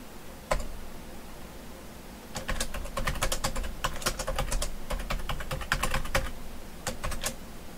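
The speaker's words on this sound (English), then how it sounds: "You can hear me typing" Quick, irregular bursts of clicking keystrokes on a computer keyboard, close and fairly quiet, with brief pauses between flurries and a low room hum underneath.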